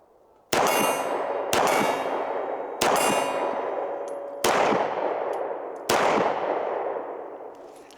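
A Springfield Echelon 4.0C compact pistol fires five sharp, loud shots at an uneven pace, each followed by a ringing decay, with no talking.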